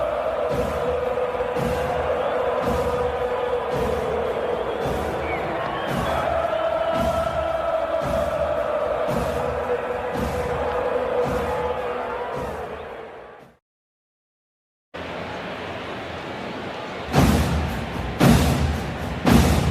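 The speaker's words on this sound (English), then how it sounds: "This crowd back into it now." A crowd roars at a baseball game between the Atlanta Braves and the Arizona Diamondbacks, a steady rumble with rhythmic thumps that cuts out briefly before returning, ending with louder sharp claps.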